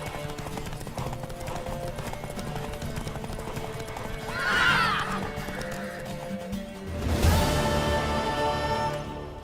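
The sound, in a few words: horse galloping in a video game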